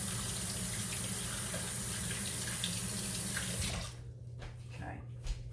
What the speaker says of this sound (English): So now, what I'm going to do is rinse my hand first